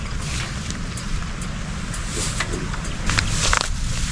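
Small boat running on open water, its engine a steady low drone mixed with wind buffeting and splashing waves, fairly loud and continuous throughout, no talk.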